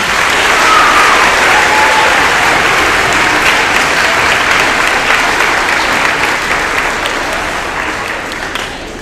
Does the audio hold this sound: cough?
no